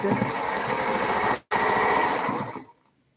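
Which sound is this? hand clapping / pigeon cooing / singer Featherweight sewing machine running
singer Featherweight sewing machine running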